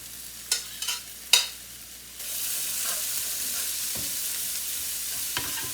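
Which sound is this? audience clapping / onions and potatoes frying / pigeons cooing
onions and potatoes frying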